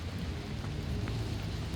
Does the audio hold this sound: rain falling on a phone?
yes